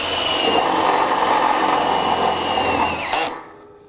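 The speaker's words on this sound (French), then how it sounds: "Alors on visse toujours avec des vis auto-foreuses." A power drill drives self-drilling screws into a metal deck joist for a slab terrace, a loud continuous whine for about three seconds that climbs in pitch and then cuts off sharply.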